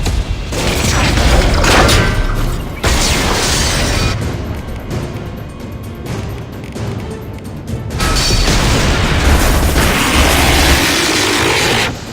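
Loud, repeated explosions as support struts are blown up in the video game Mass Effect 2, heavy booms and crashing bursts rolling almost continuously, easing briefly in the middle before a second strong volley.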